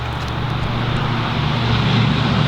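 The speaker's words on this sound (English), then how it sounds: "can there be louder traffic on this road? It really irritates me." Loud road traffic rumbles past nearby, a continuous heavy engine drone that swells slightly toward the end, with no voices over it.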